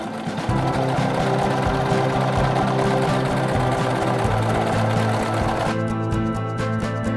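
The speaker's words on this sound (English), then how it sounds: "I'm going to head over to my serger." A serger overlocks fabric edges while finishing a dress's seams, giving a loud, steady mechanical whir with rapid stitching rhythm that runs throughout and shifts slightly near the end.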